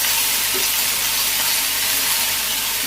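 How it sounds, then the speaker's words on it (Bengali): Okra added a little at a time to hot oil sizzles in a pan at a village home kitchen in Bangladesh, a steady, loud, close hiss of frying that runs throughout with no talk. "তেল গরম হয়ে গেছে, ঢেঁড়স দিয়ে দিই অল্প অল্প করে।"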